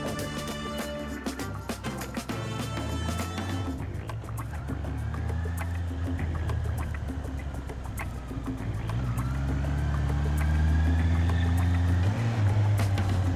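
A Honda motorcycle with E-Clutch riding a lap, its engine rising and falling through gear changes, with the throttle held open, then a steadier climbing drone as it pulls away. No one speaks.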